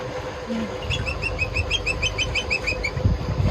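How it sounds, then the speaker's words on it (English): Birds at the shore near a sailboat's anchorage at sunrise give a rapid series of repeated high chirps over a steady low rumble of wind and water. "Birds are awake."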